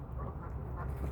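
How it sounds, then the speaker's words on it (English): Geese squabble over piles of feed at a pond, giving a short burst of harsh honking and quacking calls close by, with no talk. "And the geese are still fighting"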